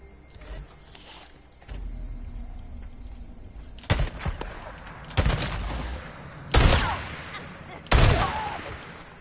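Gunfire in Days Gone: four loud shots, spaced a second or two apart, ring out over a steady background ambience, each with a short decaying tail.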